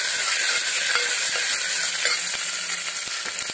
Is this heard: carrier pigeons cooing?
no